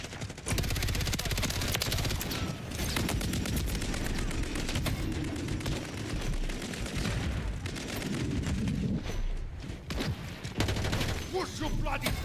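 Dense rapid gunfire and bursts of shooting in a Call of Duty: Modern Warfare III multiplayer Hardpoint match, loud and continuous throughout with some voice and explosion-like booms mixed in.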